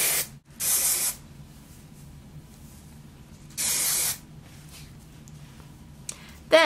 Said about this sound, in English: you're just gonna spray your hair